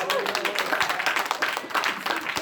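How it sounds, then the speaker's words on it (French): A church congregation claps together during a service, a short burst of mixed clapping and crowd noise with voices mingled in. "On va applaudir le Seigneur"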